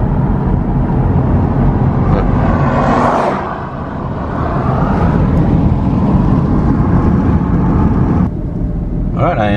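A car drives through a residential neighborhood near the Texas–Mexico border, with a steady, loud interior road rumble and engine drone. The noise dips briefly and then returns, and speech-like sounds come and go in the cabin.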